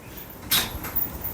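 A car door opens with a single sharp latch clunk, then a softer thump follows a moment later, close by in a quiet setting.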